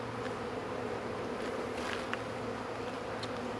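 Honeybees from freshly installed packages buzz around a hive, a dense, steady drone of many wings heard close and continuous, with a few louder individual bees passing near.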